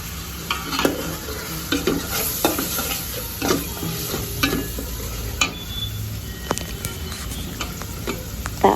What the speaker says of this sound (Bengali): এবার আমি আদা রসুন পেঁয়াজ বাটা দিয়ে দিব দিয়ে আমি ভালো করে কষিয়ে নিব মশলাটা